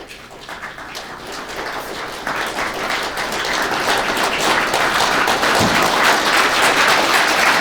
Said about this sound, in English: you will clap louder and louder and louder